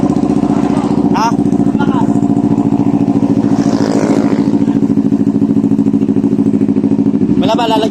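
A Kawasaki NK400 motorcycle with an aftermarket exhaust runs close and loud, with a throbbing engine pulse and a few sharp revs, while people talk nearby.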